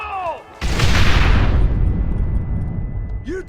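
A big blast in Red Dead Redemption hits suddenly after a brief quiet, a loud booming explosion with a heavy rumbling tail that slowly fades over a few seconds, a faint voice at the start.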